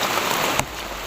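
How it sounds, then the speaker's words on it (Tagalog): Heavy rain pours outdoors with no shelter nearby, a loud, dense, steady roar of drops with one brief sharper spike midway. "Sobrang lakas talaga ng ulan."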